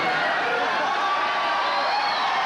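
A late-night television talk show studio audience cheers and whoops, a dense, loud wash of crowd noise that holds steady for the whole short stretch.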